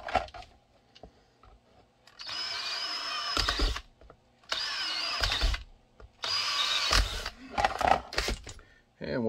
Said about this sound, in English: let's get this bad boy drilled and shaped